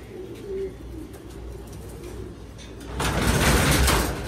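Racing pigeons coo softly in a loft, a low murmuring call under steady background noise, followed by a louder rush of rustling activity toward the end.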